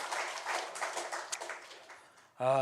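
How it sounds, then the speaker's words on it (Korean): Congregation clapping together during a Sunday worship service in a Korean church, a dense, steady wash of applause that gradually thins out before a voice cuts in loudly at the end. "우리 하나님께 영광의 박수 올려드리겠습니다."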